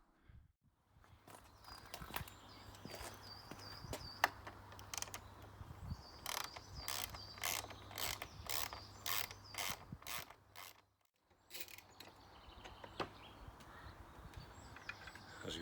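Ratchet clicking as bolts are undone from the tail unit of a Honda VFR800 VTEC motorcycle, a series of bursts of rapid, close mechanical ticks with brief pauses between and a faint low hum underneath.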